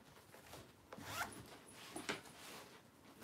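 A zipper on a thrifted purse's center zip pocket slides open and closed in a few quick, scratchy pulls, close and fairly soft, with no voices.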